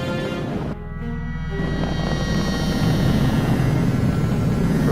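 A SpaceX Falcon 9 rocket's engines throttled down during ascent, a steady, broad, loud roar with a low rumble that persists throughout after a brief dip in texture, no voices.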